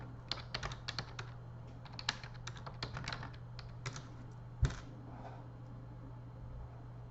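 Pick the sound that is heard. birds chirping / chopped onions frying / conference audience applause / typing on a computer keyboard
typing on a computer keyboard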